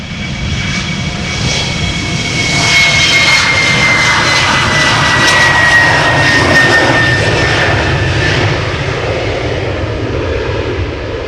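KLM airliner departing Amsterdam Schiphol Airport, a loud, continuous jet engine roar heard up close, swelling and holding steady with a faint high whine across the whole stretch, no voices.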